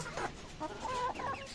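Several chickens cluck softly nearby in short, overlapping calls while being fed leftover rice, fairly quiet with no talking.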